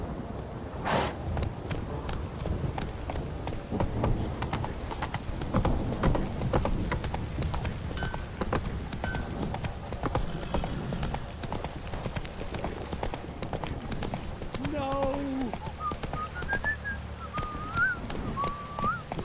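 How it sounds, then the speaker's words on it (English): Horse galloping in The Witcher 3 on PS5, a steady rapid clip-clop of hooves up close throughout, with a brief whistle and game ambience in the background. "Come on, Roach"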